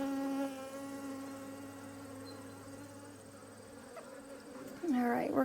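Honeybees buzz around a hive frame as a new colony moves in, a steady insect hum running throughout, with a brief voice rising near the end.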